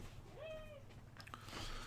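A small cat gives a single faint meow with a rising then falling pitch, short and alone against quiet room background.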